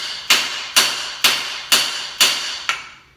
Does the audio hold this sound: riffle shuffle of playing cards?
no